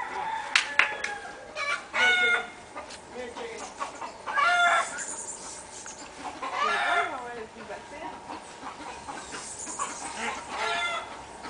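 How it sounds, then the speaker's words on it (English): Chicken clucking and squawking loose in a yard, repeated calls at varied distance with a brief crowing-like cry, over outdoor background and some talk. "your chicken's in our yard"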